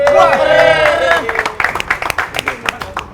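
A studio audience breaks into applause at an Indonesian TV comedy show, a burst of uneven hand claps rising after loud voices and laughter, with people talking over it.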